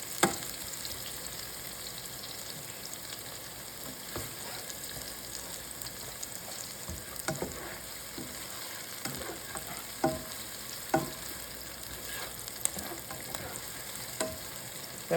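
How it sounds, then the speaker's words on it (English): Ingredients sauté in a hot pan for a Caribbean saltfish dish, a steady broadband sizzle with scattered clicks and scrapes of stirring, close and moderately loud, with no talking. "Nice and sauteed. Saute for around 2 minutes,"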